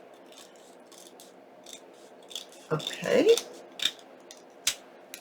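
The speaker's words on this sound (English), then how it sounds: "I'm going to get my scissors in here and try my best not to cut the flap." Scissors cutting paper for a large file folder pocket, a few short snipping and rustling strokes near at hand, irregular and fairly faint, with a brief spoken word in between.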